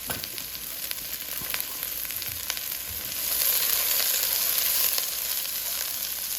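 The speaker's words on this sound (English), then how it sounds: "We have a tablespoon of olive oil in the pan, and it's hot, and we're gonna heat it up. Gonna put our onions in." Onions sauteing in a tablespoon of hot olive oil in a pan, a steady close sizzle that swells louder partway through as the pieces hit and crackle, with no talking over it.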